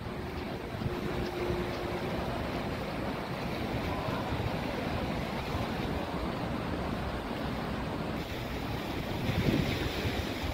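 Steady rush of surf and wind along the Worli seashore in Mumbai, a continuous broadband wash with gusty buffeting on the microphone throughout.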